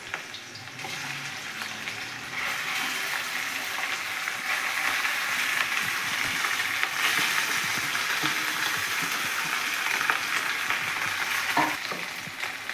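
Steady, loud sizzling of potatoes frying in hot oil for samosa filling, with occasional scraping and stirring from a utensil throughout, no voices.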